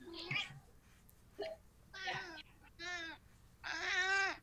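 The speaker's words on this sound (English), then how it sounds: "Oh, that's the sound of Emma's cat" A house cat meows several times in a row, close and fairly loud, each call rising and drawn out, with short pauses between them.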